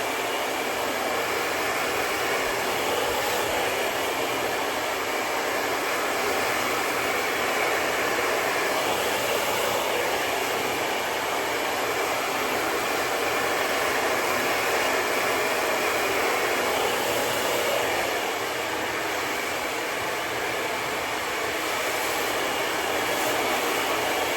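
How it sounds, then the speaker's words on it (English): A hair dryer blows continuously on hair after a keratin smoothing treatment, a loud, steady whooshing hum close by with no pauses and no speech. "I'm going to go ahead and dry it in all directions"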